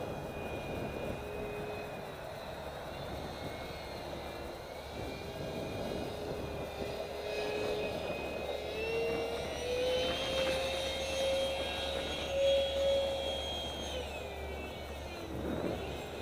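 An FRCFoamies Su-37 Mk2 EDF foam model jet flies at half throttle in gusty wind, its electric ducted fan giving a steady whining roar that rises in pitch and holds, heard from moderately far off with no voices.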